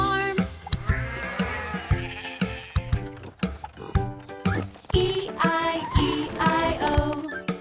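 Sheep bleating set within a children's farm animal song, with repeated wavering baa calls layered over bouncy music and sung voices.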